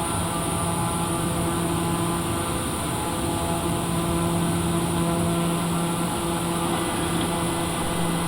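A TBM 930 turboprop climbing after takeoff from Bridgeport, a loud steady engine and propeller drone with a constant tonal hum heard from inside the cabin.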